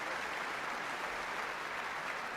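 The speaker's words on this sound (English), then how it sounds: "The applause." Applause from a concert audience after an orchestral performance fills the hall, a dense, even wash of clapping with no talk over it.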